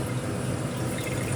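Dissolved tamarind water pouring into a cooking pot for saathamudhu rasam, a steady close liquid splash and trickle running unbroken without talk.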